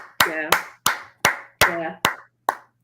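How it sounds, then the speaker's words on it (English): A studio audience on an Australian reality travel review show gives several short, sharp bursts of clapping, each separate burst loud and close, with a brief pause between them. "Hold for applause."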